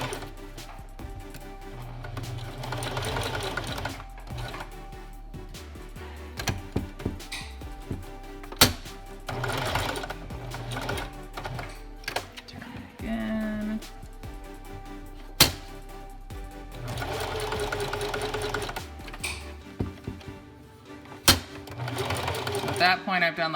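A domestic sewing machine zigzag-stitches elastic onto a baby's newborn pants, running in steady whirring bursts separated by pauses and clicks, close and clear, while someone talks over it.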